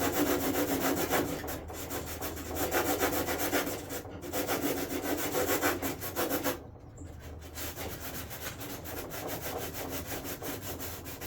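Sandpaper rubbing over a thin, fresh coat of resin on a carbon fiber hood for an Infiniti G35: close, steady back-and-forth scratchy strokes in bursts, with a few brief pauses and no talking.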